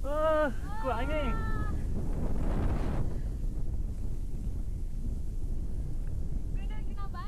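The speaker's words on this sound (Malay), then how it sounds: "Oh, kuat angin." Strong wind roars steadily across a hilltop in view of Gunung Kinabalu, buffeting the microphone loudly throughout, with brief animal-like or voice calls at the start and end.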